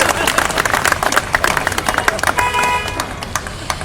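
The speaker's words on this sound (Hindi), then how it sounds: "एक बार खुल के सब लोग तालियां बजाइए" A crowd at a Hindi comedy poetry gathering claps loudly and unevenly, with sharp individual claps standing out from the mass and voices mixed in underneath.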